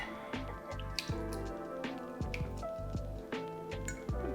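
Thick homemade salsa is poured into a crock pot, making close, wet glugging and plopping sounds with squishy drips over a low background hum.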